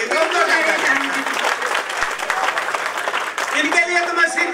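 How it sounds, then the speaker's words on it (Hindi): Loud, sustained applause from an audience at a poetry recital (kavi sammelan), continuous clapping throughout with a voice speaking over it. "जोरदार तालियां बजाइए, जोरदार।"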